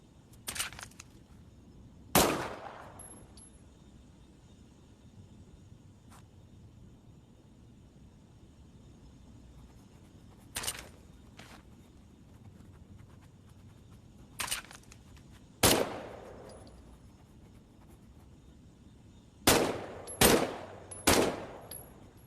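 A weapon test-fired in Medal of Honor Above and Beyond, with sparse single sharp shots spread across a quiet stretch, ending in a quick cluster of several rapid shots.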